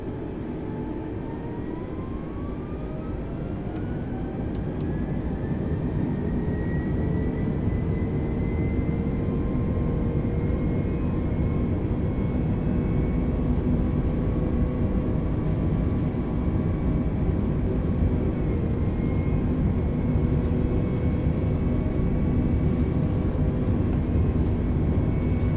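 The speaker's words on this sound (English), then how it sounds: "Why does it sound like the engines are gonna die? You hear that?" Airliner jet engines in Microsoft Flight Simulator 2020 drone steadily and loudly, with a low rumble and whining tones that slowly rise and drift in pitch throughout.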